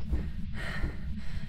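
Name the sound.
heavy breathing, out of breath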